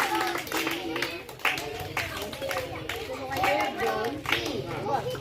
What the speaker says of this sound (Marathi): सगळ्यांनी त्यांचं अभिनंदन करायचे टाळ्या वाजवून